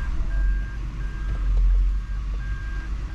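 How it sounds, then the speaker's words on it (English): A truck rolls with a deep, rumbling low engine drone while evenly spaced high reversing beeps sound in a steady repeating pattern, fairly close and without talk. "Truck is rolling."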